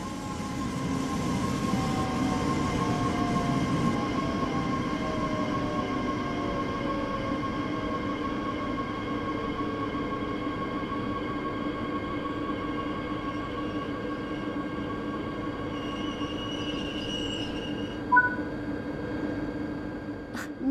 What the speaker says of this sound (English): Begin applying a small amount of braking force by moving the master controller into the braking